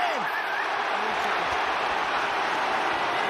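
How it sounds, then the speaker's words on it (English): Rugby crowd at an England versus Ireland Six Nations match roaring in a sustained, dense wall of noise after a high tackle, loud and continuous throughout. "High tackle, scream the crowd."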